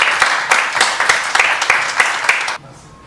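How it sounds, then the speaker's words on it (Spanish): A burst of audience applause at a presentation of national hockey team coaching staff, dense clapping with a few sharper claps standing out, cutting off abruptly after about two and a half seconds. "para quien pido un fuerte aplauso."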